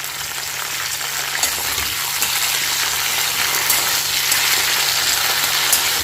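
Chopped flat beans frying with whole cumin in mustard oil, a loud, steady close sizzle with occasional stirring clinks and scrapes.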